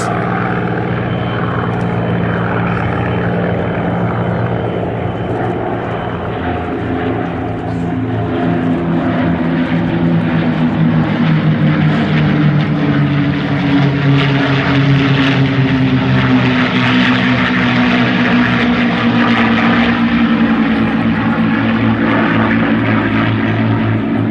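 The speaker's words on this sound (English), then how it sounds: "The P-51s continue their performance above." P-51 propeller fighters perform overhead at the Sywell airshow, a continuous loud piston-engine drone that swells and shifts in pitch as the formation passes.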